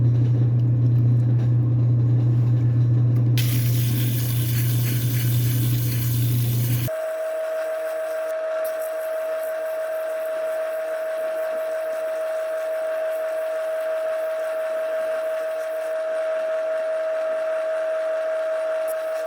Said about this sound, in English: so I'm going to go back to the lap wheel